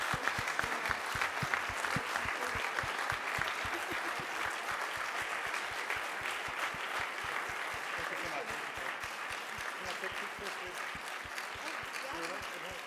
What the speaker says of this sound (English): Last chance to give Maryann a big applause.